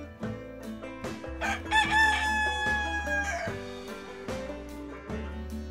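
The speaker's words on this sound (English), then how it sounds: "the rooster joined in with a cock-a-doodle-doo" Rooster crowing a cock-a-doodle-doo in a children's videobook story, set over sustained musical tones and clearly heard above the background.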